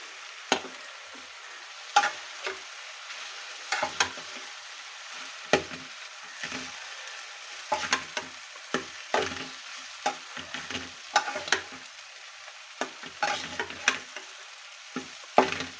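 Rice and chopped wood apple (velakkaya) stirred in a pan for tamarind-style rice, with steady crackling sizzle and frequent sharp scrapes and clacks of a spoon against the pan, close by and alone.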